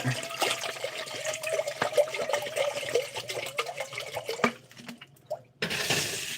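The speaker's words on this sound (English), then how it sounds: "Some water in it." Water runs into a cooking pot in a close, steady gushing stream that briefly stops and then resumes, with no voices.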